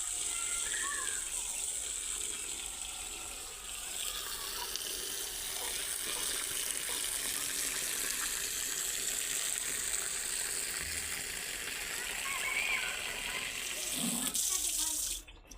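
Mustard greens for sarson ka saag are washed in water by hand, giving continuous close splashing, sloshing and running-water sounds with occasional louder swishes.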